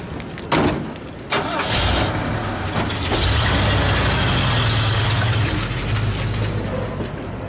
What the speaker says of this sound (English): We're test driving a car.